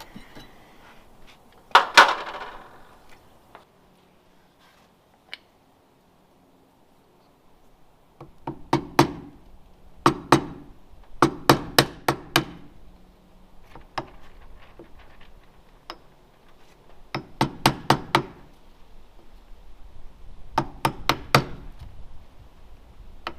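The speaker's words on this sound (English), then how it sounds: "We'll take a hand chisel and a hammer and square it up." A hand chisel struck with a hammer to square round corners routed in wood for barn doors, sharp metallic taps in quick bursts of three to five blows separated by pauses.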